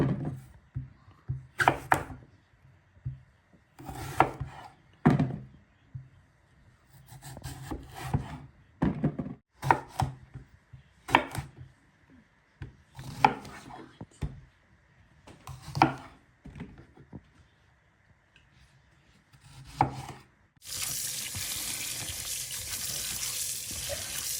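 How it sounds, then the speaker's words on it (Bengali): Eggplant from a garden cut into pieces, a series of separate knife chops at an uneven pace, close and clear against quiet, followed by running water at the end. "এই সাইজ করে আমি এগুলো কেটে নেবো"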